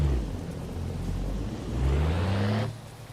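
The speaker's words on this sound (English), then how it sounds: "I like the way this truck sounds." A video game truck engine rumbles loud and close, its low drone climbing in pitch before cutting off sharply near the end.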